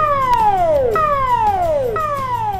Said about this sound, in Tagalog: Paglilisang sirena.